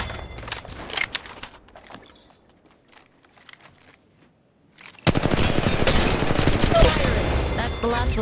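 Gunfire in the video game Apex Legends: scattered shots and clatter give way to a dense, loud burst of rapid automatic fire.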